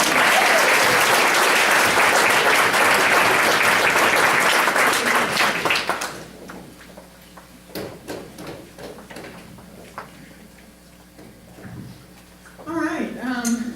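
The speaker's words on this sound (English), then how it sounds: "So give Tara a big round of applause" Loud audience applause at a Fellowship of Christian Athletes evening event fills the room for about six seconds, then fades to scattered claps and room noise before a voice begins speaking.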